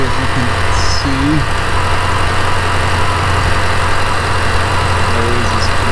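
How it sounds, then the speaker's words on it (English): The 5.4L engine of a 2001 Ford F150 runs at a smooth, steady idle after a PCV hose replacement, a continuous close rumble with an even low hum that holds without change throughout. "the hose is connected and the engine's running. Everything seems to be working fine. And smooth idle."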